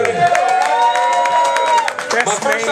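An audience claps and cheers for a rapper at an album talk event, a dense burst of applause close up with crowd noise and voices mixed in, tapering slightly toward the end.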